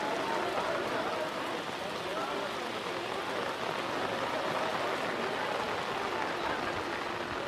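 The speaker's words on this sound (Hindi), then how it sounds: "बहुत तेज़ बारिश है।" Heavy torrential rain pours down steadily during a Vaishno Devi pilgrimage in late July, a dense continuous hiss close by, with no break in the downpour.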